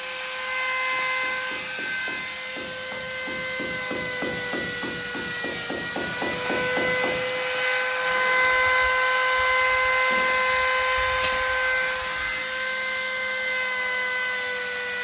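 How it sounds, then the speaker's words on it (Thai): An angle grinder cuts wire mesh at a building site before exterior wall plastering, its high, steady whine ringing with a rapid rattling chatter against the metal, then easing into a rougher grinding hum. "เราก็ใช้ลูกหมูนะครับในการตัด ตัดตะแกรงนะครับ"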